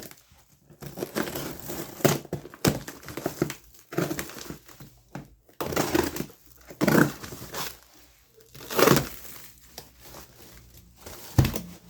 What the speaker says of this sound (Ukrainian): Так що відкриваємо першу коробочку.